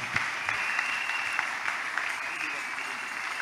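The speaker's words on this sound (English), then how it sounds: "Can we clap better for the glory of God?" Steady, sustained applause from a church congregation, a dense even wash of many hands clapping at once with no break, moderately loud and filling the room.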